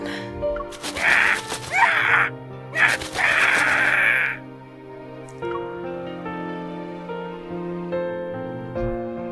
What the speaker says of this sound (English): As if expressing its grievances, the crow screeches.